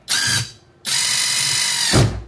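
Uaoaii cordless impact wrench on its lowest setting, heard close and loud in two bursts: a short whirring hammer run, a brief pause, then a longer sustained buzzing run that winds down abruptly.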